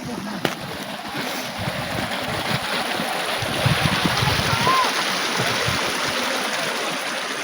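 A mountain stream in Sonamarg, Kashmir, rushing steadily over rocks, a continuous close broadband wash with no pauses.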